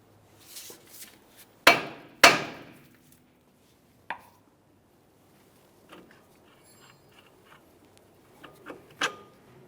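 Sharp metallic hammer taps on the steering knuckle of a 2002-2009 Chevrolet Trailblazer, freeing the outer tie rod end, ring out irregularly, two loud strikes close together, then scattered lighter knocks with quiet pauses between.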